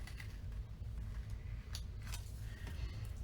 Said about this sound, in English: I tend to just eyeball it and cut it with my scissors.